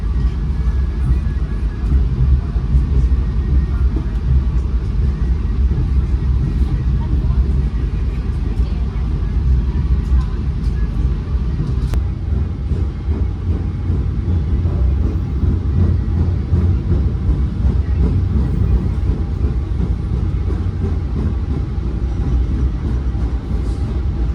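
Gaya Baru Malam Selatan passenger train pulling out of Bekasi station, a steady loud low rumble of wheels and carriage noise throughout, with faint voices in the background.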